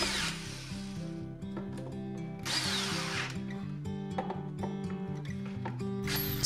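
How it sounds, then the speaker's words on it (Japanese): An electric screwdriver tightens the neck screws on a homemade electric guitar. Close, steady motor whine is broken by short bursts and a ratcheting buzz as each screw is driven. "4つのビスを締めていきます。 まずは電動ドライバーで、"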